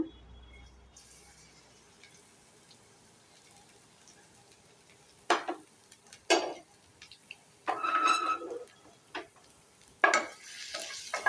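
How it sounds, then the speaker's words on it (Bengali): Garlic dropped into hot white oil in a pan gives several short sizzling bursts and stirring scrapes at irregular intervals, fairly faint against a quiet kitchen. "তেলটা গরম হয়ে গেছে, এবার প্রথমে রসুনটা দেব।"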